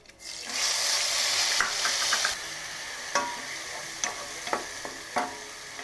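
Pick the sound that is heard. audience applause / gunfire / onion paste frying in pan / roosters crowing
onion paste frying in pan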